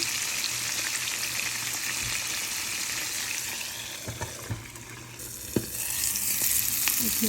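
Prawns wrapped in gourd leaf frying over low heat and being flipped, a steady sizzle broken by a few sharp scraping and turning sounds.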